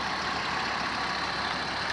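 An Audi 90 2.3 20V five-cylinder engine with 156,000 miles and standard Hitachi injectors idles steadily, a constant low rumbling hum that stays even and unbroken throughout, with no voices.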